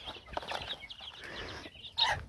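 Week-old baladi chicks with fluffy down peep on a rooftop, giving a run of thin, high chirps near the listener with a louder burst at the end.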